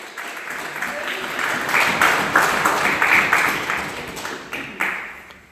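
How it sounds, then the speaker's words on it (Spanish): A church congregation claps hard in a dense, rhythmic burst, with a few sharper swells of clapping rising and falling throughout and some voices mixed faintly underneath. "Dale fuertes palmas a Jesucristo."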